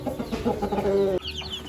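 A fancy-breed chicken clucks close by in a short burst of throaty notes, then a few fainter chirps follow.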